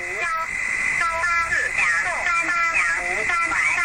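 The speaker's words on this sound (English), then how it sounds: "Here comes the ham radio." Shortwave ham radio signal of warbling, sliding tones and distorted voice-like chirps, loud and continuous over a hiss of static.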